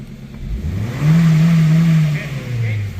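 A car engine revs up to about 2,000 RPM during an oil-change check, rising from idle to a steady held drone and then easing back, close and loud.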